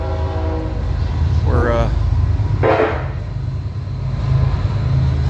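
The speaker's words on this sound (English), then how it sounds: "I guess you guys can hear the train." A freight train passes beside a semi truck salvage junkyard next to the railroad tracks, with a steady low rumble throughout and two short horn blasts sounding at a distance; someone speaks briefly.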